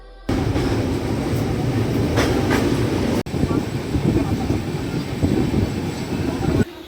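Steady low rumble of the 12626 New Delhi–Thiruvananthapuram Kerala Express running, heard from inside a sleeper class coach, continuous and fairly loud with a brief dropout midway and some faint voices beneath.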